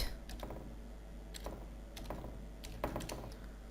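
Keys clatter on a computer keyboard as a word is entered into an Excel invoice spreadsheet, arriving as several short bursts of quick taps separated by brief pauses over a low steady hum, with no one speaking.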